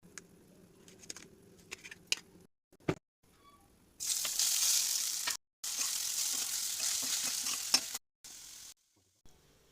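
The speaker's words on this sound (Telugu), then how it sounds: "ముక్కలుగా చేసుకొని ఆకుకూరలో శనగపిండిలో ఉన్న పచ్చితనం తగ్గేందుకు ఆయిల్ వేసి ఫ్రై చేసుకోవాలి" Gram flour and amaranth-leaf pieces frying in oil with stirring: quiet scraping and clinks at first, then bursts of loud, bright sizzling broken by short silent gaps.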